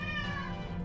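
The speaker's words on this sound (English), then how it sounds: "My kitty cat Carmelita is meowing again" A pet cat meows indoors in a home kitchen, a faint, drawn-out tonal call with a quiet background hum.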